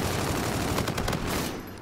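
Rapid video game gunfire in a 5v5 Kill Confirmed shooter match, a dense burst of shots rattling continuously for nearly two seconds before tailing off slightly.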